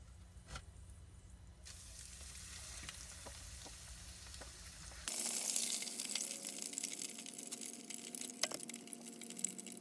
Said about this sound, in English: Now you want to cook this fish until it's golden brown and cooked all the way through.